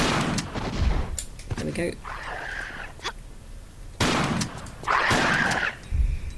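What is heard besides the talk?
shotgun firing at demons in a Tomb Raider level (video game)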